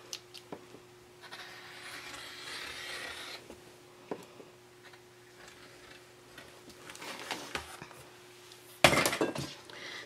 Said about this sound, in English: I'm just going to cut right along that line.